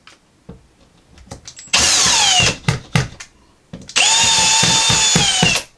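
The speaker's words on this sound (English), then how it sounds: "I'm going to drill to the left about a ½ inch and to the right about a ½ inch" A power drill bores into a wall stud in two sustained bursts of high, whining motor noise, separated by clicks and knocks of handling, close and loud with no talking.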